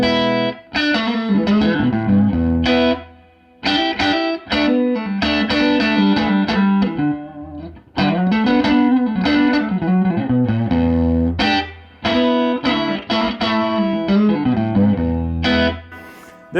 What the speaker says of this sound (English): let's listen to the clean sound of our 66 Bandmaster, all right, with just a splash of reverb